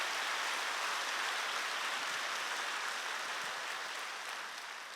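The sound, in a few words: congregation applause in church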